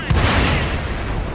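Loud tank cannon shot in a tank video game, fired from a Jackal FL-10 tank destroyer: a booming blast at the start followed by a rolling, rumbling decay filling the short moment, with no talk over it.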